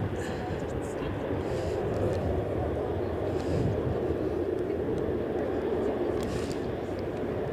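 A Loganair aircraft lining up for departure at Edinburgh Airport in wet, gusty crosswind weather produces a steady low engine rumble mixed with wind, while a voice talks over it.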